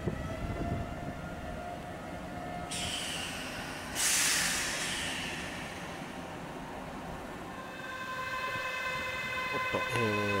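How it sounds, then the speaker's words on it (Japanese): A Nankai Rapi:t limited express train pulls in on the far track, heard as a steady rolling rumble with a burst of brake or air hiss, then tonal hum and clatter near the end, no talk. "このラピートの奥の線に入ってくる模様です。"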